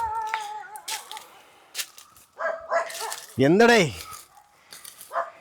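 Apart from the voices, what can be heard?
dog barking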